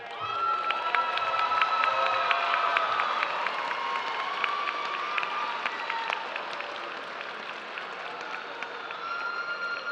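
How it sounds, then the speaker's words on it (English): A large commencement ceremony crowd cheers and applauds family and friends, a loud, steady wash of clapping mixed with whoops and shouts that holds strong throughout. "Please give them a round of applause"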